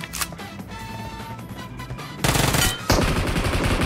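Gunfire in a brutal online shooter battle, with quick rattling bursts that turn into loud, dense automatic fire over the last couple of seconds.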